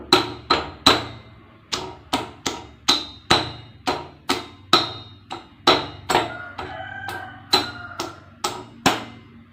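Repeated sharp pounding strikes, about twenty in an uneven rhythm, as spices are crushed close by; no voices.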